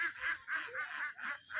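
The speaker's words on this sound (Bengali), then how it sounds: "চারিধারে খালি হাঁস আর হাঁস" Ducks on a farm beside a boat, giving a rapid series of about six loud nasal quacks close by in an even rhythm; no talk.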